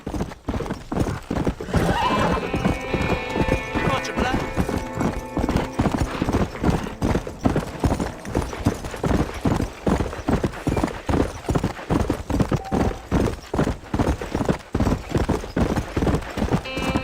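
Horse hooves galloping in the video game Red Dead Redemption, a fast, steady clip-clop rhythm close by and loud throughout, with a whinny near the start.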